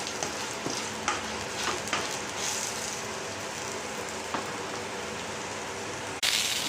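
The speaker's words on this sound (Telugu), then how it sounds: "వేగాక 2 టేబుల్ స్పూన్స్ ధనియాలు వేసుకోవాలి. వేసుకొని కలయి పెట్టుకొని వేయించుకోవాలి." Coriander seeds roast in oil in a pan for a chutney, giving a steady, close crackling sizzle with occasional sharper pops and spoon-stirring clicks throughout, and no voices.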